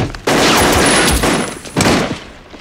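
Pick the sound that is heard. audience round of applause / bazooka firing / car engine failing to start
bazooka firing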